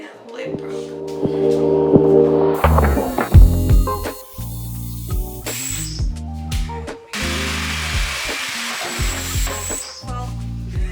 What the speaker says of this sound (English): I just drilled starter holes and then used a jigsaw for the cutout